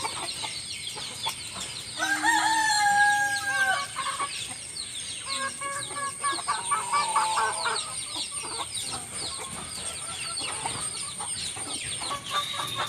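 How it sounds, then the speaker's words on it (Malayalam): Chickens of various sizes, from two to six months old, clucking and calling around a coop, with overlapping squawks and a rooster-like call near the start over a steady outdoor background. "പല സൈസിലെ കോഴികളാണ് വെളിയിൽ നിൽക്കുന്നത്"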